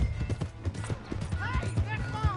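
Horse hooves clip-clopping in the video game Red Dead Redemption 2, a steady trot under talking voices with a brief whinny near the end.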